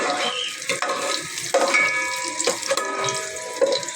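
Onion going into oil with browned garlic for a native chicken dish, a close, uneven crackle and spatter broken by clattering stirs and utensil scrapes against the pan, busy and fairly loud, with no voices.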